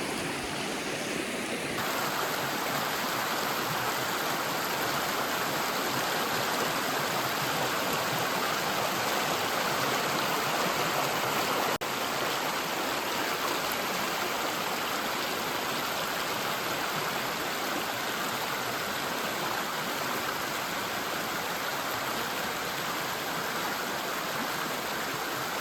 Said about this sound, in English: There's some nice streams here.